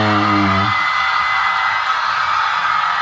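Concert fans cheering and shouting, a broad sustained roar of crowd voices that swells after a brief sung or spoken tone at the start, loud and continuous.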